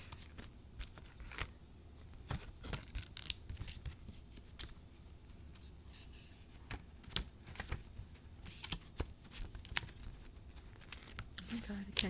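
Paper pages being flipped and riffled at a soft, close distance, a run of quick crisp rustles and taps at an uneven pace, quiet throughout.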